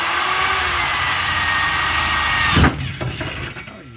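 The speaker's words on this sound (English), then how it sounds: "I gotta make a hole in the floor to make the fuel go through." A power drill bores a hole through the floor of a 1966 Nova race car, running steadily and loudly before stopping abruptly, followed by a few short clattering bursts.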